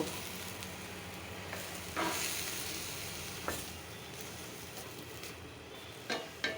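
Pabda fish curry with potato and tomato sizzles and bubbles in a steel pan, making a steady, quiet frying hiss broken by a few soft clinks and stirs.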